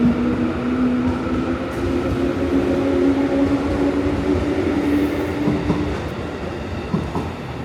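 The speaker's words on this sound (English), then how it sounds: "After enjoying Mount Fuji, this train arrived at Kofu Station." A local train pulls into Kofu Station in Yamanashi Prefecture, Japan, with a continuous rumbling roll and a steady tonal whine of the motors that fades slightly as it slows near the end.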